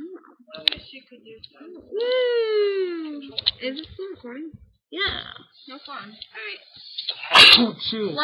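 A single sharp sneeze bursts out loudly near the end, amid close indoor talk and a child's drawn-out vocal sounds.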